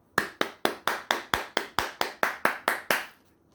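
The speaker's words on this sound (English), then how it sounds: "Can you clap fast for me?" About a dozen sharp, evenly spaced hand claps ring out in quick succession, a brisk steady rhythm from children clapping fast in a room, with no voices.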